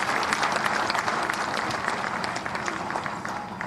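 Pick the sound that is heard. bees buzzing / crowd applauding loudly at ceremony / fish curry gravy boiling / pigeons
crowd applauding loudly at ceremony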